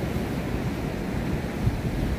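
Surf from a tidal surge washes in at the St Lucia Estuary mouth, a steady, dense low roar of breaking water mixed with wind buffeting the microphone, with no voices.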